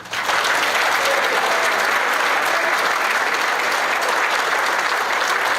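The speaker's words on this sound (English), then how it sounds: "So I want to make sure I give him a round of applause to Gabriel Melcher." Banquet crowd at the Seguin Cougar event gives Gabriel Melcher a sustained, dense round of applause, loud and even from start to finish, the clapping blending into a continuous roar.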